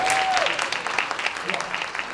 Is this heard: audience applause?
yes